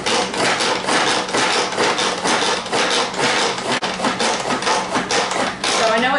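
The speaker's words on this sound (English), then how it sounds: "coarsely chop it in the food processor, the manual food processor" Vegetables being coarsely chopped in a small hand-operated food processor with a grippy base, heard as fast, dense, repeated chopping and rattling strokes that run continuously and close up, with no pauses.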